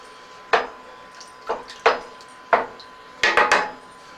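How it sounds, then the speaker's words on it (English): Spoon knocking and scraping against a pot while milk sausage gravy is stirred, about six separate clunks spaced roughly a second apart, close and fairly clear with no talking. "So we're going to stir that."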